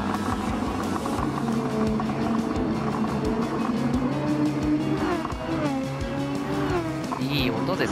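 A Super Formula single-seater race car in Gran Turismo 7 gives a loud, continuous high-revving engine note that climbs and drops through gear changes, with someone talking over it throughout.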